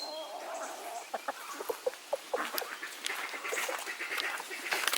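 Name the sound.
hens eating scraps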